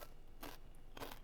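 Oil-free toasted tortilla chips, fresh and hot, give two quick crisp crunches. The bursts are quiet and brief, with a soft hiss between them.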